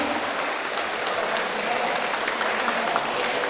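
Lively, continuous applause fills a choir festival's opening worship service, a thick even wash of many hands clapping at once without pause.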